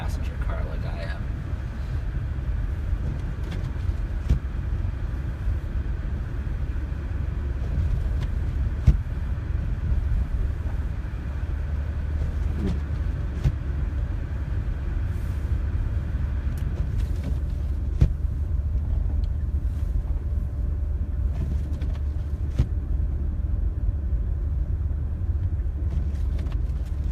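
A small passenger car drives along a packed, slick snowy road during a winter storm, a steady low engine and road rumble running throughout with faint scattered crunches and knocks.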